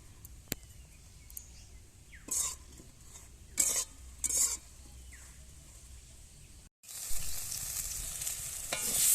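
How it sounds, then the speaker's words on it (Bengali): Eggplant fries in a little oil at a faint, soft sizzle, broken by a few scraping stirs and clinks, before a louder, brighter hiss swells up near the end. "অল্প তেল দিয়ে এই বেগুনগুলোকে একটু ভেজে নেবো"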